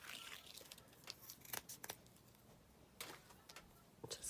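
Scissors snipping through lace, a few quiet, sparse cuts with small rustles of the fabric in between, close by and soft.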